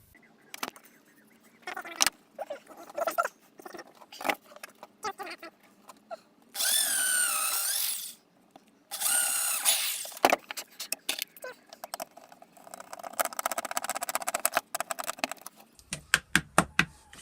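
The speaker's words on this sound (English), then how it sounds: "what we've got to do now is drill some holes and screw some stuff" A power drill bores holes in a wooden arcade controller box, whirring in two sustained runs between clicks, knocks and handling noises from the workpiece.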